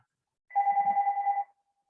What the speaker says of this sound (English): And I've got a phone ringing, just a sec.